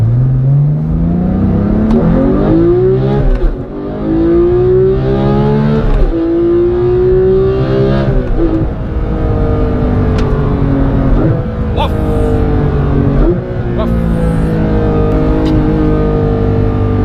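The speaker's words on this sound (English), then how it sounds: "dieses Runterschalten ist einfach mega geil" A Porsche 991.2 GT3 with a manual gearbox, driven on a country road, revs hard and downshifts repeatedly, its engine note sweeping up and falling back in a loud, close, continuous howl.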